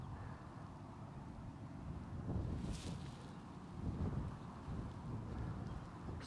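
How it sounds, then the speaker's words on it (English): Wind on an increasingly windy day at Teesmouth Nature Reserve: a low, rumbling buffeting that rises and falls in gusts across the whole stretch, with no voices. "It's a bit of an increasingly windy day."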